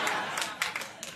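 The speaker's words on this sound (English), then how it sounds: "That's called pity applause in my business." Brief, scattered studio audience applause on a late-night talk show, a thin smattering of claps over about a second, with a voice in the background.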